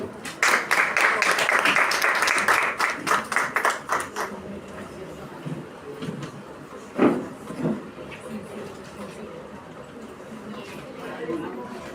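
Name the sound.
audience applause welcoming speakers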